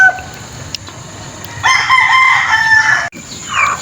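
Roosters crowing on a gamefowl farm in Bambang, Bulacan, Philippines, one loud nearby crow rising and holding for over a second, with fainter clucks and another bird starting to call at the end.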